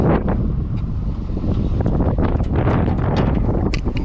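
Loud, constant wind blowing into the microphone in a field during wheat sowing, heavy low rumbling buffets with rough crackling gusts throughout.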